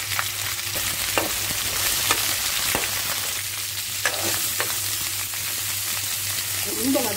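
Onions sautéing in oil with fennel, cumin and poppy seeds for a country chicken curry, a steady close sizzle broken by occasional spatula scrapes and taps, with no speech.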